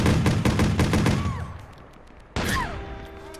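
Rapid bursts of video game gunfire rattle in quick succession, fading, then a single sharp shot rings out near the end.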